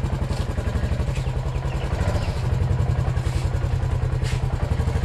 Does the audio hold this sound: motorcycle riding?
yes